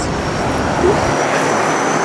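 A loud, steady seaplane propeller engine drones close by, a dense continuous roar with no pauses.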